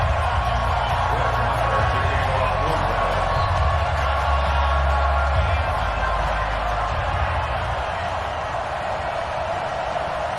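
Stadium crowd noise in an EA Sports football video game, Dallas Cowboys versus Washington Redskins, a constant loud roar running unbroken throughout with a commentator's voice over it.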